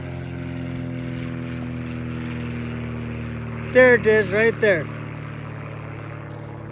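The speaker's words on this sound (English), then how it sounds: "Oh, there's an airplane." An airplane flies overhead outdoors on a cold day, a steady low, distant engine drone running throughout, while someone briefly speaks partway through.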